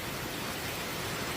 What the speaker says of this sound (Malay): Sampai-sampai hujan lebat kau.